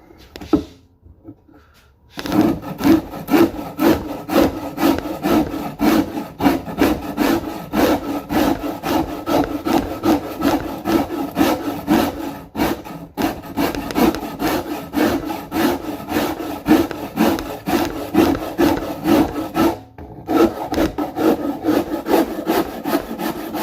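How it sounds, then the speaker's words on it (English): A Shinto rasp carves a wooden Telecaster-style guitar neck in steady, rapid back-and-forth strokes, close and loud, continuing almost unbroken for about twenty seconds with a couple of brief pauses. "Shinto rasp, if you're wondering."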